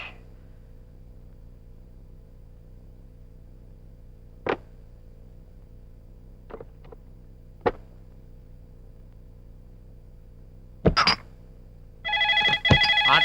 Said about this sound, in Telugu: ఫోన్ రా. ఎత్తు.